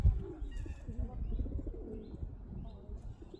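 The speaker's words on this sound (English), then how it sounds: "Reservoir pigeons." Pigeons coo at an outdoor reservoir on a stormy, rainy day, low soft calls repeating near and steady over a rumbling background of wind and rain.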